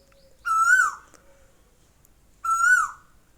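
Asian koel calling twice, two clear rising-then-falling whistled notes about two seconds apart, fairly close against a quiet background with no talk.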